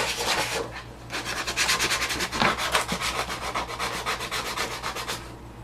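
Sandpaper rubs paint off a wooden ottoman leg in fast, rhythmic back-and-forth strokes, loud, close and continuous.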